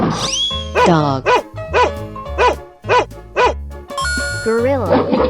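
A dog in a 3D animal video game barks in a quick series of loud, close yaps with whimpering tones, mixed with game music and effects.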